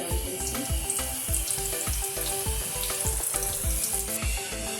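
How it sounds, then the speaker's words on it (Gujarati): Leftover roti pieces deep frying in hot oil as crispy chips, a loud close sizzle and steady bubbling crackle with rhythmic stirring knocks throughout, no talking. "આપણે તળી દઈશું"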